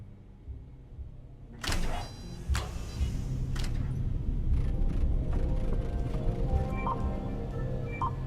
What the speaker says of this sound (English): Pull the action lever and try again.